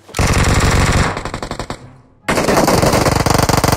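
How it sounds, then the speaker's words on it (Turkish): Rapid automatic gunfire from a ranked online shooter match crackles loudly in dense bursts, pausing briefly before another sustained volley erupts. "Bunlar kime sıkıyor ya?"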